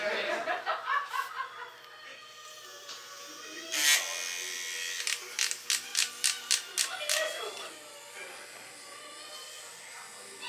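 A Mummy Anubis tattoo machine buzzes in short bursts and then a run of rapid on-off pulses, fairly close and moderately loud, with a few quiet voices and light laughter around it.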